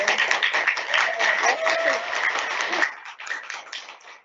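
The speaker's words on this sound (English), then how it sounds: "So I think that deserves a round of applause." An audience at a school entrepreneurship presentation gives a brief round of applause that tapers off toward the end, with a voice speaking over the clapping.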